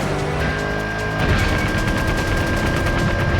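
Weapon fire in Stuntman Ignition on PS2 starts about a second in as a rapid, evenly spaced string of loud gunshot bursts over a steady engine-like drone.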